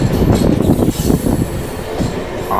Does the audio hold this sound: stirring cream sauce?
no